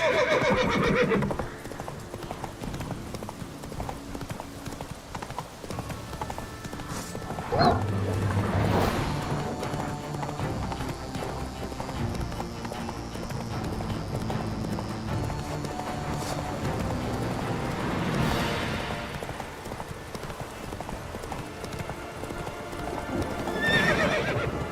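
A horse called Roach gallops with rhythmic clip-clop hoofbeats and lets out loud whinnies and neighs, a fairly close and continuous run.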